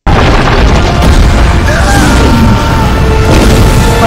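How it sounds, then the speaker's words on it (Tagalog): A huge explosion from a scene in the Ant-Man and the Wasp: Quantumania film, a loud, sustained booming roar with rumbling blast energy that fills the whole stretch without letting up. "ginamit ni Janet ang kanyang wasp suit para nakawin ang core at pasabugin ito sa napakalaking sukat"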